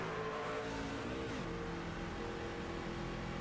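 Race trucks lapping Talladega Superspeedway in iRacing, a steady loud engine drone with layered harmonic whine, one tone bending as a truck shifts or passes around the middle, no talking.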